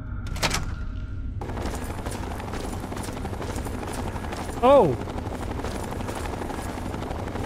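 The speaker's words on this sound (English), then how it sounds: "It's a vertibird. I hear a vertibird." A vertibird helicopter from Fallout 3 thrums with a continuous rotor chop, joined by rattling mechanical noise and a brief sharp burst; a voice exclaims once midway.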